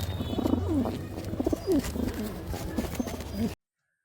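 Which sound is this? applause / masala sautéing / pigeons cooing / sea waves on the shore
pigeons cooing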